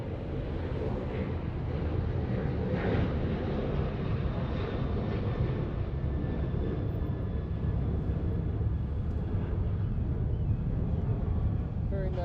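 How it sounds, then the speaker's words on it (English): A Boeing 747 airliner lands at Los Angeles International Airport, a steady, distant roar of jet engines that holds throughout, with a person talking over it. "Very nice landing, Queen of the Skies."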